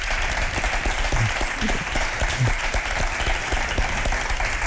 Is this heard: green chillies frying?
no